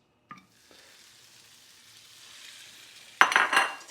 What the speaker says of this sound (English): I'm going to add a little drop of oil into a pan. And then just my grated potatoes.